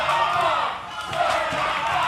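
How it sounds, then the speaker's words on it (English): A crowd at a wrestling show roars and cheers in a steady, loud wash of voices, with a commentator talking over the noise. "Yeah, listen to the crowd."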